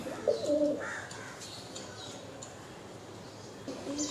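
Pigeons cooing at a busy pigeon market in Uluberia, soft repeated coos and murmurs over a steady crowd hubbub, near and fairly clear.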